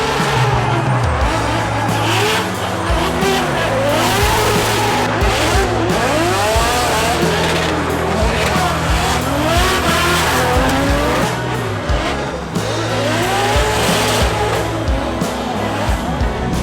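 A drift car on its first practice lap at Formula Drift Long Beach, engine howling and swooping up and down through gear changes alongside squealing tyres, loud and near for the whole stretch.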